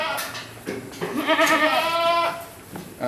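Saanen goats on a goat farm bleat several times in quick succession, close and fairly loud, with wavering cries overlapping and brief gaps between calls.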